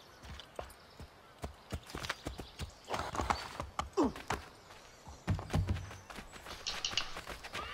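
Horse hooves clip-clopping in the video game Assassin's Creed 3, uneven steps on a hard surface with a faint whinny and scattered game effects, moderately close.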